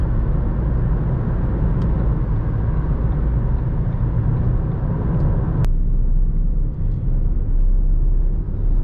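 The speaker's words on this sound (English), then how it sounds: "I just think this car sounds so, so good." A Ford Fiesta hatchback engine drones steadily with a low, rumbling roar while driving, loud and close, with a brief click partway through.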